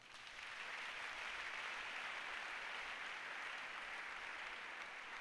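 A church congregation breaks into sustained applause, a dense, even wash of clapping that holds steady for several seconds, moderately distant and without pauses.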